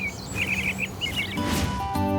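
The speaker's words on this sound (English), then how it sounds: "Did you hear the sound that the birds were making?" Small birds chirp and twitter in quick bright bursts, fairly close, with a steady hum and faint tonal sounds in the background.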